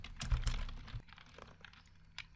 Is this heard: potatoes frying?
no